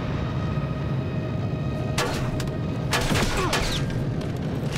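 Several sharp rifle reports from a sniper rifle in the Terminator Resistance video game, spread across the middle of the clip and sitting over a constant low background hum.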